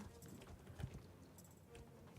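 Horse hooves clip-clopping in the online horse-riding game Star Stable: a faint, steady patter of hoofbeats that runs on through the moment.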